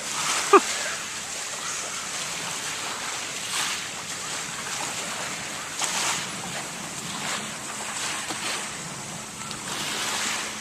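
High-tide waves at Owen Beach wash steadily in a soft, continuous surf hiss, with gentle swells in the rush and a brief knock near the start, no talking over it.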